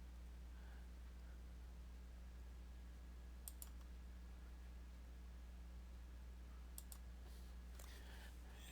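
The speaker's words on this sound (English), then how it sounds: "I'm going to double click." A computer mouse gives two quick double clicks, faint against a steady electrical hum, spaced a few seconds apart with no talk.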